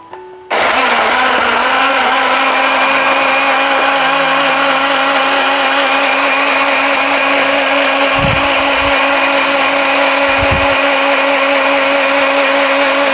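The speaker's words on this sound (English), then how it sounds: "You'll need a blender." A blender whirs at full power blending cloves with hot water, a loud, steady motor drone kicking in abruptly and running continuously, with a couple of faint knocks partway through.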